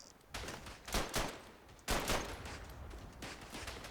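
Gunfire in the World War I shooter game Verdun: dense volleys of rifle and machine-gun shots, loud and close, coming in several sharp bursts with brief lulls between them.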